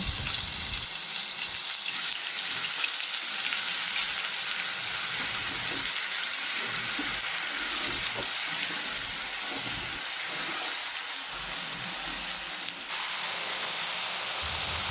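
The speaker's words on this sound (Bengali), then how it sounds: "মিক্সারে বেটে রাখা মশলাটা এবার দিয়ে দেবো" Ground spice paste fries in hot oil left from frying pomfret, tempered with cumin and bay leaf, giving a loud, steady crackling sizzle throughout with occasional stirring and a few soft clinks.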